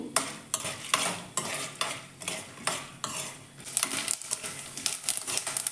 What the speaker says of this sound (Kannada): ಕಡಲೆಕಾಯಿ ಬೀಜವನ್ನು ಹಾಕ್ಕೊಂಡ್ಬಿಟ್ಟು ಫ್ರೈ ಮಾಡ್ಕೋತೀನಿ